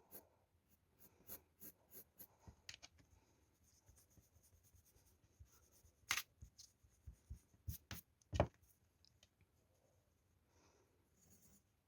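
A pencil scratches across paper in short strokes and taps while a frog's toes are being drawn, quiet and close, with irregular bursts and brief pauses between marks.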